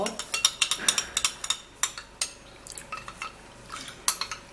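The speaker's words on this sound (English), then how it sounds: "So we're gonna mix these 2 ingredients all up" A utensil stirs starch and another ingredient together in a bowl, making rapid, close clinks and scrapes in an uneven rhythm.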